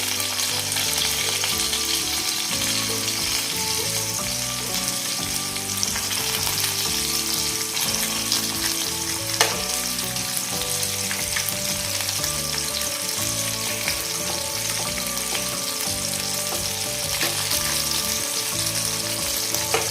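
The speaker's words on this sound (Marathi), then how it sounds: "दुसऱ्या साईडनं आता मिक्स करून आपण फ्राय करून घेऊया" Eel (vaam) fish fries in a pan with loud, continuous sizzling and crackling oil, steady throughout with occasional stirring and scraping.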